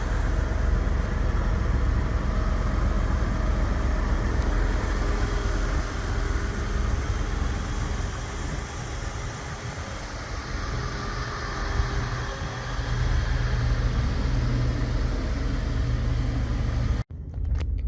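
Steady, loud engine and road rumble from a 1985 Rolls-Royce Silver Spur with 48,000 original miles, heard from inside during a drive, continuous broadband droning that ends abruptly near the close.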